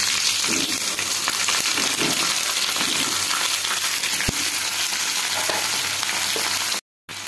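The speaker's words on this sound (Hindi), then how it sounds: "फुटण फुटी आसले सेथिरे काटी रखिथिबा पियाज आउ भेंडी को दबा।" Chopped onion and okra dropped into hot tempered oil, a loud, continuous close-up sizzle with faint stirring clicks, broken by a brief cut to silence near the end.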